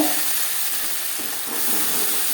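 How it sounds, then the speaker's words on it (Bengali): A ground paste of tomato, ginger and green chilli hits whole cumin frying in hot oil, giving a loud, continuous sizzle and hiss with no talking. "পনেরো কুড়ি সেকেন্ড জিরে ভেজে নেওয়ার পর দিয়ে দেবো মশলাকে"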